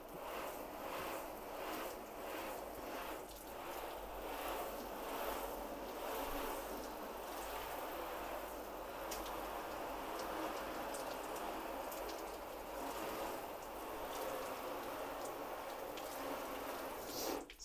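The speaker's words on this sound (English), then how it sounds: "So let's get some water on them. Hose." A garden hose sprays water onto a car's paint, a soft, continuous hiss and patter of spray on the surface, faint and fairly even, with no voices.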